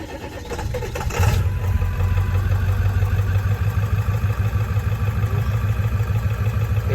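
A 2000 Ford F-250 with a 7.3 Powerstroke diesel, straight pipe and lope tune cold-starts after a short crank, then settles into a loud, steady, deep idle close by.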